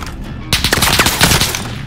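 Gunfire in the video game Call of Duty: Modern Warfare breaks out suddenly after a short quiet moment, then continues as loud, rapid automatic bursts with dense overlapping shots.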